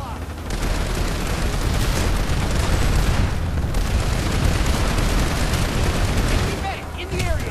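Heavy sustained gunfire and explosions in the video game PlanetSide 2, a dense continuous barrage of shots and booms filling the clip, loud and close, with a player talking over it.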